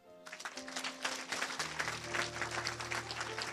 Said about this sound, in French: Viens, on acclame le Seigneur